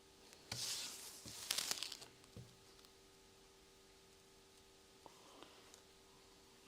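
Zipper tape is torn while a messenger bag is being sewn, making two sharp, crinkly rips close up, followed by fainter handling rustles and quiet ticks.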